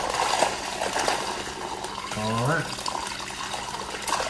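Brine being poured fast into a container holding a turkey for a hickory smoked Thanksgiving bird, liquid splashing and gurgling steadily, with a person speaking briefly and a short rising squeak partway through.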